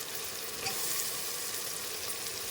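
Meal maker soya chunks fry in a pan with a steady, even sizzle throughout, close and moderately loud.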